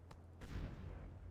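Heavy 20-inch naval guns firing in the warship game NavalArt: a sharp early shot, then a second booming report that rolls into a long, loud low rumble.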